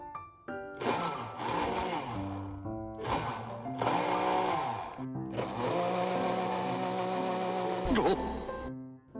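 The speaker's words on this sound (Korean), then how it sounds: "먼저 계란과 물을 믹서기로 갈아줍니다" A blender whirs loudly and close by, whipping egg yolks with water for homemade egg-yolk oil plant spray. The motor runs in several bursts of rising and steady whine, with short pauses between them.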